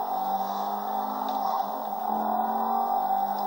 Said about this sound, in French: On s'amuse en arpentant des routes, des sentiers, comme là avec des voitures de sport.